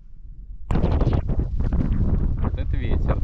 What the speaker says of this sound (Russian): Вот это ветер, да?